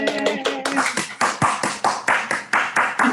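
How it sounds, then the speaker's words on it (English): Scattered claps and cheers from an online audience of unmuted participants celebrating an award, uneven and overlapping with short bursts and voices mixed in. "please cheer and clap loudly in celebration of"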